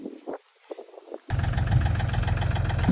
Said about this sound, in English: Get the tractor going because they're quite heavy